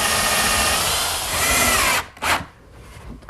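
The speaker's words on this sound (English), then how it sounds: "Now I'll just pre-drill some holes for some 1 5/8" A power drill pre-drills screw holes in a chop saw station frame, with a loud whirring run for about two seconds, then a short second burst, up close with no talk.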